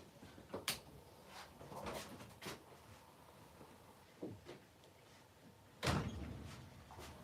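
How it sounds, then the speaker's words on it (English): A door being shut indoors amid clattering prep work: scattered knocks and bumps, ending with one louder close thud near the end. "Shut the door"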